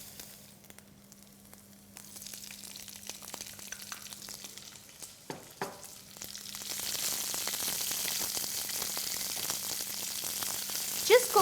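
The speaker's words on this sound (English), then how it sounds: "Just cook the onions for a couple of minutes till they turn soft." Shredded onion sautéing in a pan with garlic paste for a South Indian drumstick curry, a soft sizzle that grows to a steady, louder frying hiss with a few stirring knocks midway.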